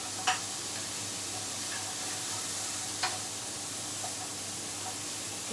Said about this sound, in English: You can hear all that sizzling.